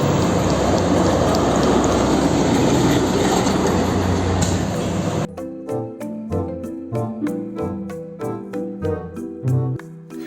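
A coal-fired steam train rolls past with a dense, steady rumbling roar for about five seconds before it cuts off and light musical tones take over.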